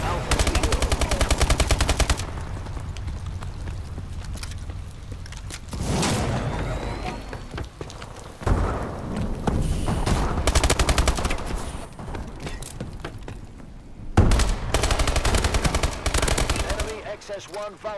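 Loud, rapid machine gun fire from a video game battle comes in long sustained bursts separated by brief pauses, with players' voices heard between the volleys.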